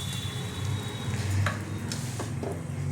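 Potatoes frying in hot mustard oil, with a steady sizzle and crackle in a pan, close and continuous, with a few brief clinks of utensils.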